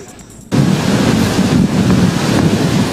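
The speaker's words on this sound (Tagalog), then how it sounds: "umuungol na tunog ng hangin, kasabay ng malakas na ulan" After a brief quieter moment, a loud roar of typhoon wind and heavy rain bursts in and keeps buffeting the microphone steadily, in Southern Luzon, Philippines.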